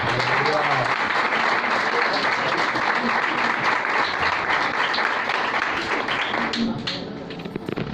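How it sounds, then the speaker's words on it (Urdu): Loud, sustained applause from a church congregation, mostly women, fills the clip at a steady level before easing slightly near the end, with a few voices mixed into the clapping. "میں چاہوں گا کہ بہنیں اپنے لیے زوردار تالیاں بجائیں"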